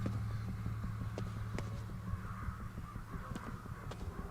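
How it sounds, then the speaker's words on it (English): Crows cawing in the video game Ghostwire, several harsh calls spread across the clip over a steady low ambient hum, no talking. "These crows, though."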